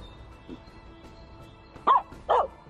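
A Finnish Spitz dog out in a forest gives two sharp barks close by, with a fainter yelp just before, over quiet background.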